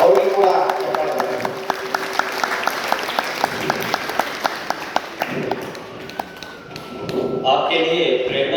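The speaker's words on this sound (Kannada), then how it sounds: "ಅವರಿಗೆ ಕೂಡ ಚಪ್ಪಾಳೆ ಬರಲಿ" Audience applause for a senior yoga teachers' demonstration at an International Yoga Day event, steady clapping from a crowd running through most of the stretch, swelling again near the end, with a voice on a loudspeaker talking over it.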